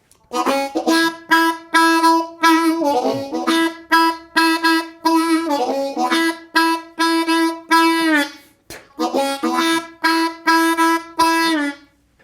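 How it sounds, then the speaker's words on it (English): A reedy blues harmonica repeats a single note in short punchy bursts, a steady stuttering rhythm played up close with brief pauses between phrases. "there's a bunch of places like this where he repetitively plays one note"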